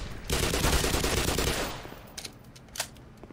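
Rapid MP5 submachine gun fire in Black Mesa, a dense burst lasting about a second and a half, then a few scattered sharp shots fading out.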